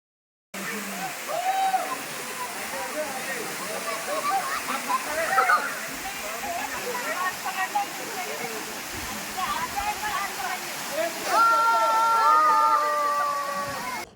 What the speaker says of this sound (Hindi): और ये है जी टाइगर फॉल